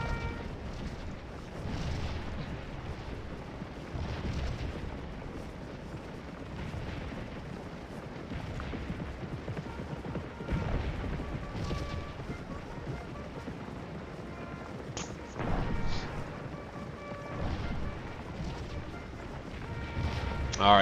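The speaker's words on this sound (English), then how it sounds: "We just got myrtleized by some artillery fire right there." Artillery fire in Scourge of War, a Civil War battle game: dull, distant booms and rumbling bursts roll on over a steady low background for about twenty seconds, a few louder blasts standing out.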